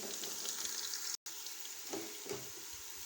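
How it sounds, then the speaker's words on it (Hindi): Garlic frying in hot ghee after browned onions, a dense hissing sizzle heard up close, broken by a brief dropout midway, with no talking. "लहसुन को डाल के हमने 2-3 मिनट फ्राई कर लिया"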